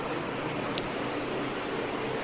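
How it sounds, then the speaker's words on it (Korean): Water from a spring at an ancient source of Jerusalem's water rushes as a steady, even hiss that carries no pauses or distinct splashes and fills the whole moment at moderate loudness. "여기서 물이 솟아나요. 자, 그리고 이렇게 흘러서 이 물소리 보이죠?"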